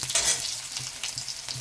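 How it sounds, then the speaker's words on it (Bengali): Garlic fries in oil in a pan for cooking beto greens, giving a loud, continuous close-up sizzle with soft stirring scrapes running through it. "এরপরে দিয়ে দিলাম রসুন শুধু রসুন দিয়েই শাক ভাজাটা হবে"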